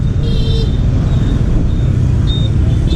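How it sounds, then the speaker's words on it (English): Busy Vietnamese city street traffic rumbles continuously, with close engine drone and passing vehicles and a few faint horn toots, loud and steady. "That is the way to navigate the Vietnam traffic, just like this right now."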